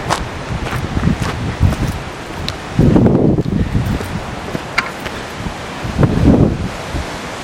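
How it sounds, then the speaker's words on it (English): Strong wind of around 60 miles an hour roaring through an old tunnel, a steady broadband rush with gusty surges swelling louder in bursts, buffeting close to the microphone with no talking. "Definitely some headwind in there. 60 miles an hour or so."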